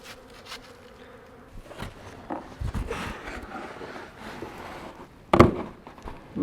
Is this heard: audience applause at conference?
no